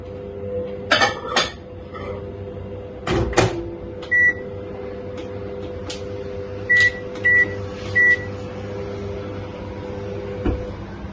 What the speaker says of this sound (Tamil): சோ நான் இதை இப்படியே வந்து மைக்ரோவேவ்ல வைக்கிறேன்.